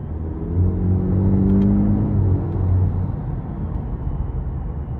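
A 2023 Cadillac CT4-V Series driven in track mode with manual shifting gives a steady, close engine drone with a brief rising pull in the middle, then settles into a lower rumble with road noise.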